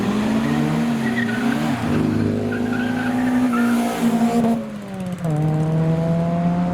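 Loud custom cars at a street car meet rev hard and pull away one after another, engine notes rising and falling close by with a brief dip before another car roars past.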